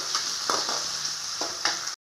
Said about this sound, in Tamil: வெங்காயத்தை நல்லா வதக்கலாங்க